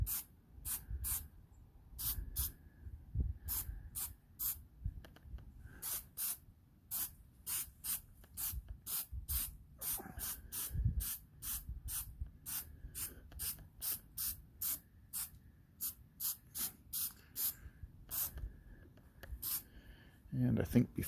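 Aerosol spray paint, white base coat then gray and black, going onto a gun, heard as many quick close hissing bursts in an uneven rhythm over a low room rumble, with no talking.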